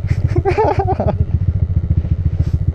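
A motorcycle not built for off-road use rides a rough nature trail, its engine pulsing steadily and loudly up close with rattling clatter, while people talk over it at the start.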